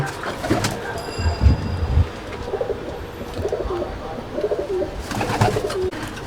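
Several pigeons coo inside a loft, overlapping throaty calls rising and falling in short bursts close by, with some rustling and faint background noise between them.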